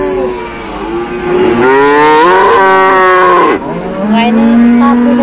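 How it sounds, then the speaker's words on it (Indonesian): Small cattle at a livestock market moo loudly and close by, with several long, drawn-out calls rising and falling one after another. "Wah ini sapi kecil-kecil. Sebelah saya ini ada sapi bakalan."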